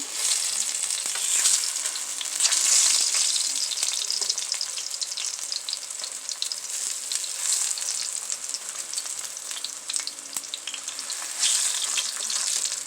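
Plantains frying in a pan for a coconut curry salmon dish give a steady, close sizzle with dense crackling and spitting throughout, no talking over it.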